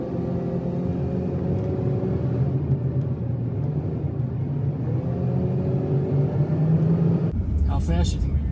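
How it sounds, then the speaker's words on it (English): A car reverses along a long city block at low speed, its engine a steady close rumble throughout with a faint voice underneath. "you guys are about to watch me reverse down that whole entire long block"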